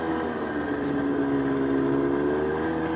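An old, first-model Polaris ATV engine runs steadily after starting, a continuous droning idle with a faint rising pitch, loud and close, with no talk over it.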